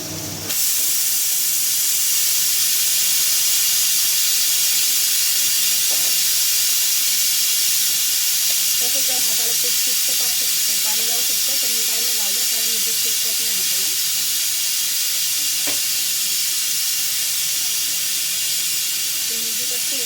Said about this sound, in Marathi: आपण हे गॅसवर मोठ्या गॅसवर डाळी ठेवून घेतली आहे